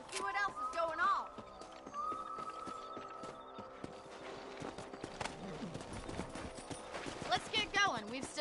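Horse hooves clop rhythmically across the ground in the video game Red Dead Redemption, steady galloping beats under game sound effects, with a horse whinny near the start.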